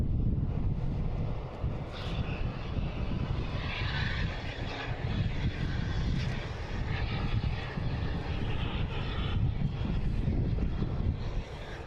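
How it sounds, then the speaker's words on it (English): Delta Embraer E175 regional jet taking off at Boston Logan International Airport, a steady loud engine roar with wind buffeting the microphone throughout. "we have Delta taking off at E175"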